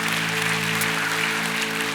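Congregation applause during a Sunday worship service at ANC Onnuri Church following a baptism testimony, a steady, dense wash of clapping that fills the hall over a faint sustained tonal hum.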